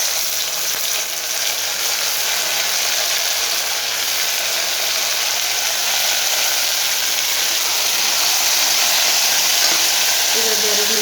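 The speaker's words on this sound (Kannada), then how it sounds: "ಇದೊಂದು 2 ನಿಮಿಷ ಟೊಮೆಟೊ ಫ್ರೈ ಆಗಲಿ" Chopped tomato frying in oil in a pan, a steady loud sizzle running throughout with occasional stirring scrapes, close and continuous.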